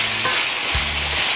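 Pork browning in a pan with bay leaves for pork binagoongan, a dense close sizzle with a couple of brief stirring scrapes and no talk.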